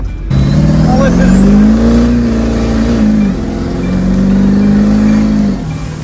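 Turbo diesel engine revving up loudly and close, holding a strong rumbling tone with a rising whine, dipping briefly, then revving again before easing off.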